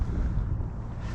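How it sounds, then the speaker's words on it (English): Steady wind buffets the microphone on a lake during kayak fishing, a low continuous roar with no voices. "so it is pretty windy out here"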